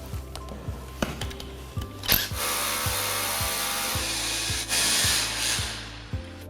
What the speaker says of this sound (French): on prend la perceuse et on perce tout simplement pour mettre les chevilles à frapper